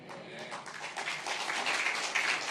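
Applause from a church congregation at a Korean dawn revival service, a dense clatter of many hands that builds and grows louder toward the end.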